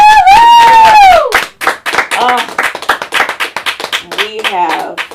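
An open mic audience claps for the host, a burst of quick sharp hand claps from a small nearby crowd right after she speaks, fading into scattered applause.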